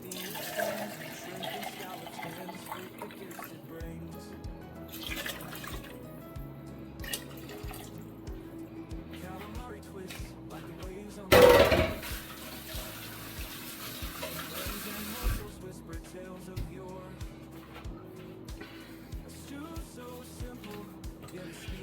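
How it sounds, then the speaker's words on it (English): Broth for a Mediterranean seafood stew is poured into a can to rinse it, with faint liquid trickles and a louder splash near the middle over a quiet kitchen background. "And then I'll just use some of the broth to rinse the can."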